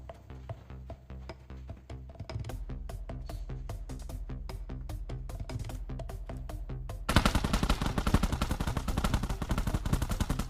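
Honey Badger rifle firing in PUBG Metro Royale, close rapid bursts of automatic gunshots in a steady rhythm, then a louder, denser stretch of continuous fire.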